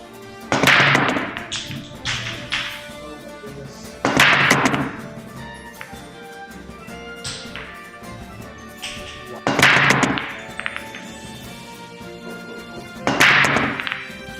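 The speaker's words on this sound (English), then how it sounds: "I'm talking about using the same location to break directly at the head ball, not the second ball." Four sharp 8-ball pool break shots, each a loud crack as the cue ball hits the rack, followed by balls clattering and rolling across the table and long quiet gaps between breaks.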